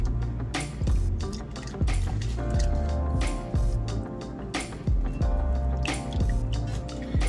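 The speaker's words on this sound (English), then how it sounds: "we're gonna add about 2 cups of half and half, and we're gonna get this mixed into this mixture" Half and half is poured and mixed into a green bean casserole sauce in a pan, making repeated wet drips and squishes in an uneven rhythm over quiet background music.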